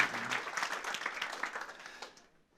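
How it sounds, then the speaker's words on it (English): A brief burst of applause for a boys hockey team at a school board meeting, moderately distant and fading out over about two seconds. "let's give a round of applause to boys hockey"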